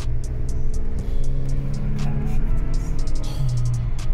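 A new sports car's engine runs nearby with a low, throaty hum that swells slightly as if lightly revved, alongside sharp short clicks and bumps.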